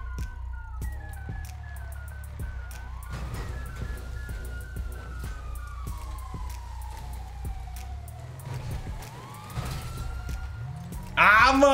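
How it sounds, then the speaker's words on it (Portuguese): Several police car sirens wail in GTA V, rising and falling tones sweeping over a rumbling engine and traffic background, with a burst of louder noise at the very end. "Nossa, tá vindo um monte de viatura."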